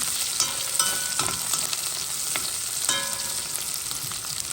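Onions frying and browning in a pan for pork chine and swordfish steak cooking, a steady close sizzle with a few sharp crackles and clinks of a utensil stirring, no voices.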